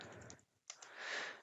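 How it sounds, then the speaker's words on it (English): Quick bursts of typing on a computer keyboard while an address is entered into mapping software, soft close keystrokes in two short runs with a brief pause between. "here we then type in the address of that warehouse"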